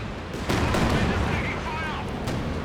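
Long-range ZIS anti-tank gun fire booms in a Company of Heroes 2 multiplayer battle, heavy low blasts rolling under overlapping game noise while a commentator talks throughout.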